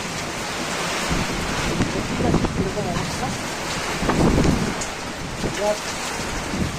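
Violent Kalbaishakhi storm in Barasat: heavy rain and gusting wind roar continuously, with swells of louder rushing and a possible distant rumble, while someone talks over the downpour.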